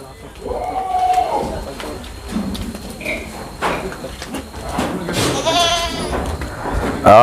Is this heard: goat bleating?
yes